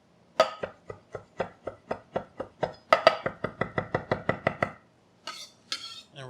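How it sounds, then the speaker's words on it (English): Knife chopping garlic the old-school way on a cutting board: about twenty sharp, even chops in steady rhythm, close and crisp, with a short pause near the end followed by a couple of scraping sounds. "Give it a good chop."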